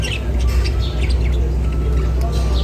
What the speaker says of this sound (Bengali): সংগ্রহে আছে কয়েকটা বদ্রি পাখি